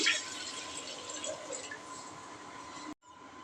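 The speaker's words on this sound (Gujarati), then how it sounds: "તેમાં લીટર એક પાણી એડ કરીશું" About a litre of water pours steadily into a vessel for bael fruit sharbat, a close, even rushing splash that runs for nearly three seconds before cutting off abruptly.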